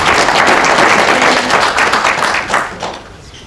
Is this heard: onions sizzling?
no